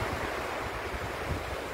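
Ocean waves rolling in toward the shore, a steady broadband wash of surf with low rumbling swells and some wind noise, continuous and fairly close, with no voices.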